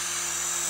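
A remote control military helicopter flies nearby, giving off a steady, loud, high-pitched electric whine with a constant rotor hum and no pauses.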